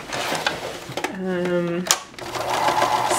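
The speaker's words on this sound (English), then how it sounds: "Then as I top stitch, I can go from one corner to another" Sewing machine top stitching purse handles, a quick, even run of stitches lasting under a second, set between stretches of a person talking.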